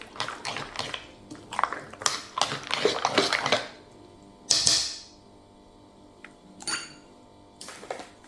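Anise-flavoured fekas almond shortbread dough ingredients are stirred together in a bowl: a run of scraping, clinking strokes, then scattered quieter knocks with pauses between.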